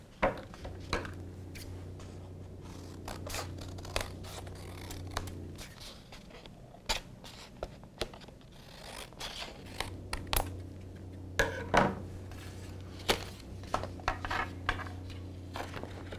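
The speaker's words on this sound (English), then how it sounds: "All we need to do then is just trim this edge so it's nice and level." Scissors trimming the edge of a paper pop-up birthday card, with a series of crisp, quiet snips and paper rustles spread across the clip over a low background hum.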